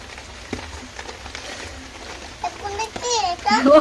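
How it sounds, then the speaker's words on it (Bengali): Heavy rain pours down in a steady, dense hiss outdoors while young children talk and babble over it, their voices growing louder near the end. "অনেক বৃষ্টি পড়ছে"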